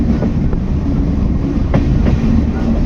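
Vivek Express passenger train running on the rails near a station in Assam amid light rain, a steady loud rumble with faint rhythmic clickety-clack of wheels over rail joints throughout.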